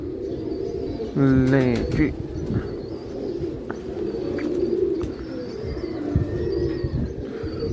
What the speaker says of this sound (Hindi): ये ले जी, ये कबूतर आ गया अंदर, डबल कलर लगे हुए इसको।